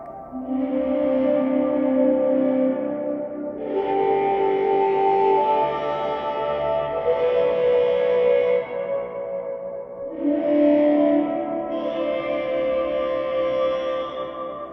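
Sustained pipe tones played through effects pedals, drenched in echo and reverb, held notes shifting pitch in long phrases, loud and alone without speech.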